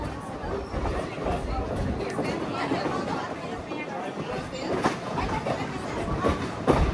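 Lehigh Gorge Scenic Railway passenger train rolling along tracks near Jim Thorpe, Pennsylvania, a continuous rumbling and rattling ride heard from aboard, with people chatting and talking over it throughout.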